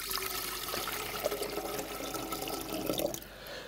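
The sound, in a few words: pouring water into a soup warmer cylinder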